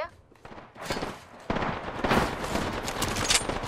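Bursts of video game gunfire crackle through most of the stretch, dense rapid shots swelling loud and close after a quieter start, with game effects layered in and no clear talk over them.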